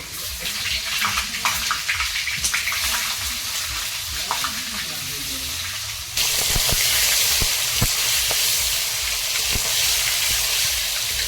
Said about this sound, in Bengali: মাছটা ভেজে দেব